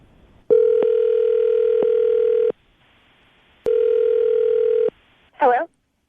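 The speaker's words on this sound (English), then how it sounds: "we're going to try to get her on the phone right now" A telephone ringing on a live radio call: two long, steady electronic rings with a pause between, followed by a brief voice answering at the end.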